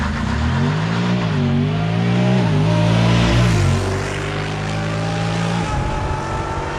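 Turbo-tuned Honda car accelerating hard from a stop toward 40 mph, its engine rising loud and close in pitch through gear changes before easing off into a lower steady rumble near the end.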